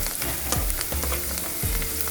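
Curry leaves fry in hot oil with peanuts in a pan for girmit, a dense, continuous close sizzle with a few brief crackling bursts and no voices.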